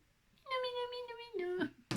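A cat gives one drawn-out meow that bends downward at the end, close and clear in a quiet room, followed by a brief rustle.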